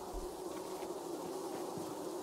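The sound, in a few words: bees buzzing around a beehive in video game Dying Light 2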